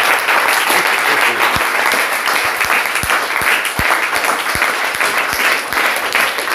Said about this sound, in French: Applaudissons au Seigneur.